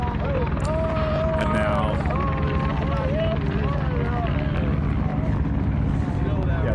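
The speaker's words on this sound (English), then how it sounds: "just by where the helicopter just flew over" A helicopter roars loud and steady overhead at a tense protest standoff near the Cannonball River, its rotor drone constant throughout while people talk over it.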